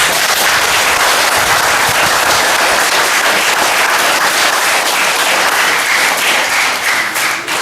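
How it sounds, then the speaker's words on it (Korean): Worshippers at a Buddhist temple's first-anniversary dharma ceremony in Manila give a loud, sustained round of applause, many hands clapping densely and evenly throughout, close and full with no talk. "저분들에게도 박수 한번 보내주세요."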